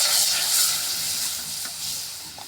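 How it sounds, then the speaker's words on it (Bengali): A little water hitting a hot pan of fried onions, bursting into a loud hiss and sizzle that slowly settles over a couple of seconds. "পেঁয়াজটা ভাজা হয়ে গেছে, এখন পানি দিলাম সামান্য"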